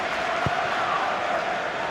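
Big football crowd at an evening European match between Aston Villa and Ajax, a steady loud wash of massed voices and noise filling the stadium, with one brief low thump near the start.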